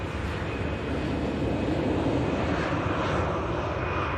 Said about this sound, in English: EasyJet then. Heading out on the south runway, heading out for La Rochelle.